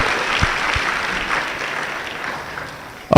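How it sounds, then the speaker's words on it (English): Applause from the audience at an education summit and graduation ceremony, honoring a program beneficiary; steady, fairly dense clapping fills the hall for about three seconds, then a brief louder burst at the end. "why don't you give her a deserving round of applause?"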